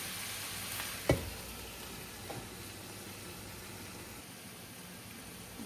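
Shrimp and bitter melon cooking in a covered pan give off a steady, quiet sizzle and hiss, broken by a brief clink or stir at the start and a small knock soon after, with no one speaking.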